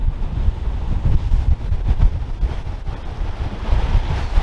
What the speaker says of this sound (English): It's not raining though, it's so windy.